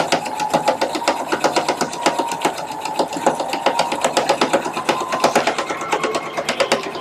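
Sewing machine running steadily while stitching a 5/8 inch seam on a Victorian evening dress, a fast, even mechanical chatter of needle strokes that carries through the whole stretch at close range with no talk.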